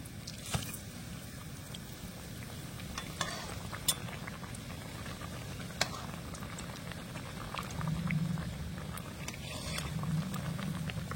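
Pantua pitha sizzles and bubbles in hot oil, a continuous frying crackle with scattered sharp pops and a faint clink, close and moderately quiet.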